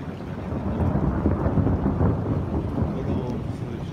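Thunder rumbling during a sudden heavy downpour outdoors, a dense, continuous low roar of rain and rolling thunder filling the scene, loud and steady throughout.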